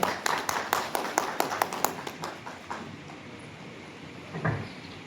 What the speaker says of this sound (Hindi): जोरदार तालियों के साथ स्वागत और अभिनंदन